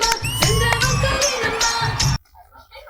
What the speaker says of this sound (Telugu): క్లాప్స్ గట్టిగా క్లాప్స్ కొడుతూనే ఉండాలి